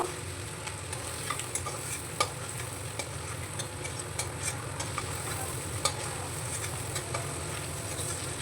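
Prawns frying lightly in hot oil, a steady crackling sizzle with occasional stirring clinks, continuous and close throughout.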